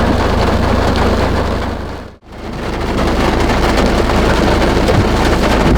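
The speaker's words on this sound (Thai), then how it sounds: "มาถึงฝนตกเลยทุกคน" Steady, dense rain pours down at a reservoir campsite, with a hiss of drops on surfaces throughout and a brief drop-out partway through before the downpour resumes at full strength.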